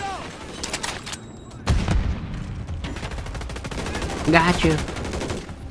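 Rapid gunfire from a Modern Warfare III match crackles in dense bursts and sustained automatic volleys with booming hits, while players talk briefly over the shooting.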